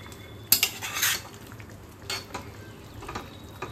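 Mixed vegetables and gourd leaves stirred in a pan, with sharp metallic scrapes and clinks of a utensil against the pot over a faint sizzle, in a few close bursts.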